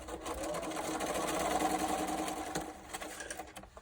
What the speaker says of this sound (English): I'm just sewing together these last 2 pieces.